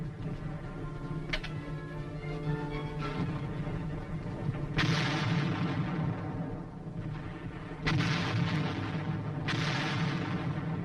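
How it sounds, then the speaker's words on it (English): Self-propelled 155mm artillery guns fire from a forward position in a series of heavy booms, several sharp blasts spaced a few seconds apart, each trailing off in a rumbling decay over a low continuous background. "the big guns from this forward position concentrate their fire on known and suspected targets"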